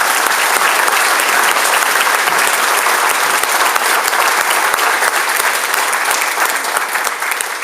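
Loud, dense applause from an audience at a sixth grade awards ceremony for award-winning students, a sustained unbroken roar of many hands clapping that holds steady throughout and tapers only slightly at the end.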